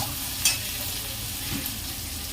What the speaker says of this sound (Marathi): कांदा परतवून घेते